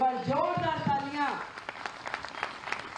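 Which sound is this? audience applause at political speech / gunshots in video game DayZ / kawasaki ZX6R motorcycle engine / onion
audience applause at political speech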